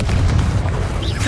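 A Confringo spell fires in Hogwarts Legacy, producing a loud, sustained low boom that rumbles through the whole moment with a brief hiss near the end.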